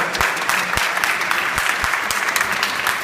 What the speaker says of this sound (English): Let's give Charito a short round of applause.